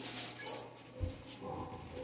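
A dog whimpers and gives a brief yip in the video game Undertale, a short faint whine over a noisy game soundtrack with a single louder yelp near the middle.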